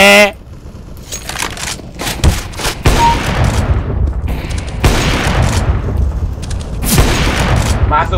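Gunfire and explosive booms from the shooter game CS:GO, bursts of shots scattered across the stretch over continuous game noise, with excited voices talking throughout.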